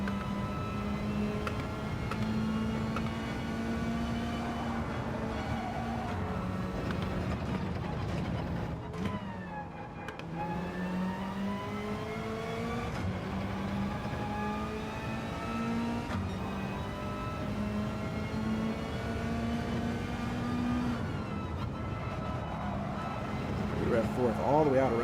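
A Gran Turismo 7 GR3 race car at the Red Bull Ring, its engine droning and shifting pitch through continuous acceleration and gear changes over the full stretch, with a player talking throughout.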